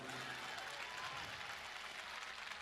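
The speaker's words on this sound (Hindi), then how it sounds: "तालियां और मुखर करना।" Applause from an audience at a Hindi poetry recital, a kavi sammelan, where Kavi Amit Sharma performs with Kumar Vishwas. A dense, steady wash of clapping sounds faint and distant throughout.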